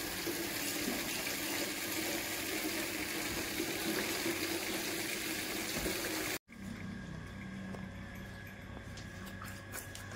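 Water gushes steadily from a pipe into a bucket on a farm in the morning, a loud continuous rushing that cuts off briefly partway through and then resumes.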